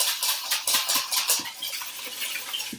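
A whisk clicks and scrapes against a bowl as finely chopped garlic is broken up into a vegan vinaigrette, a quick, steady run of close metallic taps with no talking.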